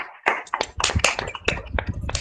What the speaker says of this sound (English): Let's clap for the Lord.